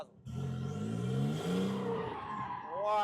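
A car drifting on a practice area for beginners roars under a steady, loud engine note while its tires squeal and skid continuously, with the pitch rising near the end.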